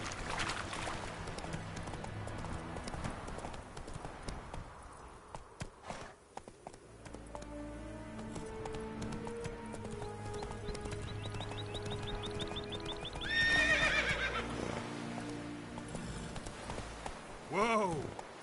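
Roach the horse galloping in The Witcher 3, with hoofbeats fairly close under game ambience and music, a rising whinny near the end, and a voice speaking briefly.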